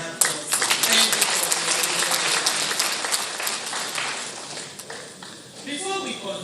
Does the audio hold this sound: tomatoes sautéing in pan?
no